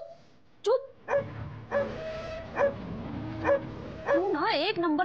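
A dog barks and yips several times in short bursts indoors at a home, with a person speaking over and between the barks.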